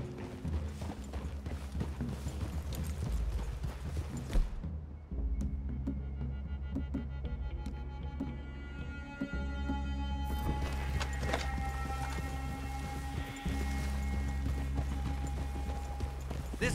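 Horses walk along a path in Red Dead Redemption II, their hooves clip-clopping in a steady rhythm under a layer of game ambience and low rumbling music.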